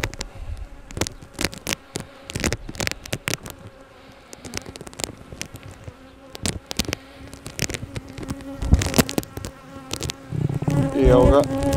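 Honeybees buzz steadily around a plastic beehive frame with plastic comb foundation, a dense insect drone with many bees moving close by, swelling louder toward the end with handling noises.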